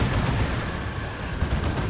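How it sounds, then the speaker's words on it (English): A grenade barrage in the real-time strategy game Dawn of War 2 rumbles as a steady, dense wash of low booms and crackling blasts, loud and continuous without a pause. "Big grenade barrage going in."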